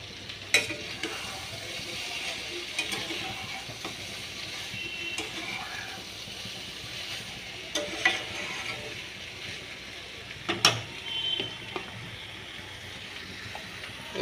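Soybean chunks sautéing in a pan, a soft continuous frying hiss under faint stirring scrapes and a few sharp utensil clicks, close but quiet, with no talk.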